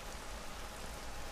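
Steady rain falling in the video game Everybody's Gone to the Rapture, a soft continuous hiss of drops pattering on surfaces, even and unbroken with no voices.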